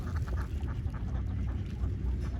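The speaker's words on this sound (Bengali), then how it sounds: "ওই যে হাঁস দেখতে পাচ্ছেন" Ducks on an open wetland (beel) quack in a few short, nasal bursts over a steady low background, heard from nearby.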